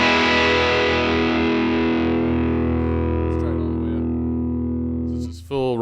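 Electric guitar through a RAT distortion pedal with the Reutz mod fully engaged: one loud, thick, fuzzy chord rings out and slowly decays for about five seconds before being abruptly cut off with a brief scrape of noise.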